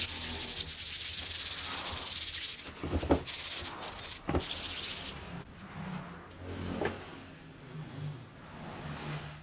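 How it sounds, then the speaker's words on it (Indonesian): Steady scratchy rubbing of fine 400-grit sandpaper on stained Dutch teak wood, continuous strokes with a few brief louder scrapes, close up and alone. "Pakai amplas yang halus ya"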